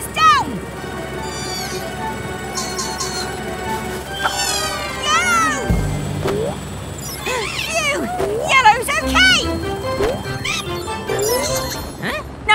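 A cartoon cat meows repeatedly in bright, sliding cries, loud and close, mixed with music and other animated sound effects, with a brief crash in the middle.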